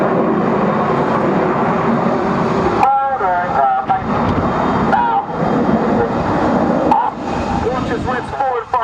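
Red Arrows RAF jets roar overhead during the Apollo roll, a loud, steady engine rush with shifting pitch, while a voice talks over the noise.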